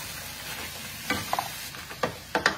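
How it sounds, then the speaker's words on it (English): Croutons being mixed into a pot of food with the heat just turned off, soft background hiss with a handful of quick scraping and clinking stirring sounds, quiet and close. "I'm adding the croutons directly here on the pot. I'm mixing everything together like so."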